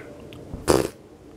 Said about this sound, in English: Nice fart.